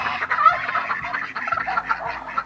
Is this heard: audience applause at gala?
no